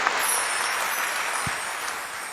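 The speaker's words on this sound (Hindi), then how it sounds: "एक बार जोरदार तालियां बजाकर हमारे सभी कार्यकर्ताओं का उत्साहवर्धन करिए" A crowd at a political party rally claps loudly and continuously for party workers, a dense, even wash of applause that tapers slightly toward the end.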